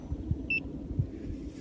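A KingSong electric unicycle gives a single short, faint high beep as it is switched off, over quiet low background rumble.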